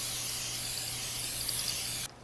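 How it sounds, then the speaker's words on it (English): A short, continuous hiss of a non-stick baking spray can held close, lasting about two seconds before cutting off abruptly. "Non-stick baking spray."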